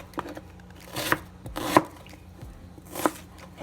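Several sharp knife chops on a cutting board, spaced irregularly with pauses between strikes, close and fairly crisp.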